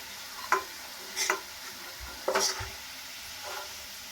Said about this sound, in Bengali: এখন পেঁয়াজটা একদম লাল করে ভেজে নিয়েছি